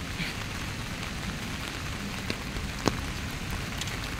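Rain pours on a wet morning, a constant, close hiss of drops striking surfaces, with a couple of sharper individual drip impacts standing out briefly.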